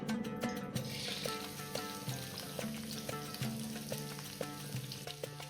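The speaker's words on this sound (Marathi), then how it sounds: "तवा आपला चांगला तापलेला आहे त्याच्यावरती आपण कांदा भाजायला टाकते" Onion sizzles in hot oil on a well-heated griddle pan: a continuous, moderately quiet frying hiss with light crackling and occasional faint stirring, heard alone.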